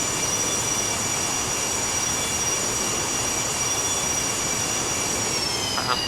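An aircraft lands on a runway in the flight simulator X-Plane 11, with a loud, constant roar of engine and rushing wind plus steady whining tones, continuing without a break.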